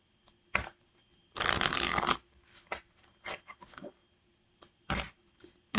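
A deck of cards being shuffled up close: a long riffle burst in the middle, surrounded by short scattered snaps and flicks of cards, with quiet gaps between them and no talking.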